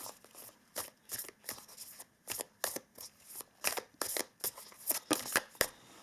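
A deck of tarot cards is shuffled in a quick series of crisp riffling bursts, about a dozen in a row, each one close and distinct against a quiet background.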